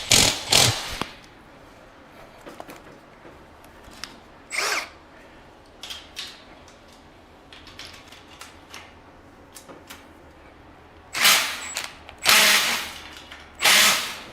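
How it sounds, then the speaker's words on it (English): An impact gun tightening bolts while assembling an American Queen BBQ grill by Moss Grills fires in short loud rattling bursts at the start and end, with quieter clicks and handling noises between. "we'll take the impact gun and tighten it down"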